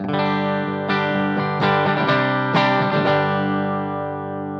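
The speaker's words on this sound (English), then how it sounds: "So here's the clean sound first." An electric guitar plays a short phrase of strummed chords and picked notes through the clean channel of a Bluguitar Amp1 Mercury Edition amp, ringing out with a full, sustained tone and no talking.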